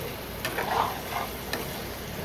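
Julienned carrots are stirred in a pan while thukpa cooks: a soft scrape or two and light sizzling under a low background hiss, brief and close.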